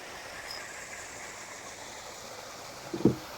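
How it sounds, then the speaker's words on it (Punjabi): Water pumped by a motor pours straight into a tank, a faint, steady rushing hiss with a low hum throughout and one short louder knock near the end, with no voices. "ਇਹ ਸਾਡਾ ਪਾਣੀ ਸਿੱਧਾ ਮੋਟਰ ਤੋਂ ਟੈਂਕੀ 'ਚ"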